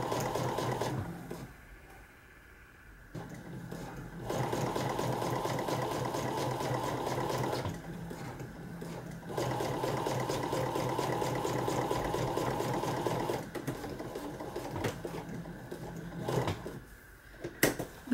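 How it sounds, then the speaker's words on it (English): Sewing machine stitching across a zipper on a make-up bag, running in a few steady bursts with brief pauses between, close by and fairly loud. "Drop the foot down again and just finish sewing across."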